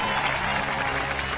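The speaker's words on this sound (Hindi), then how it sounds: "ताली बजाओ," A crowd applauds continuously in a dense, steady wash of clapping hands that stays at an even level for the whole short stretch, with no talk over it.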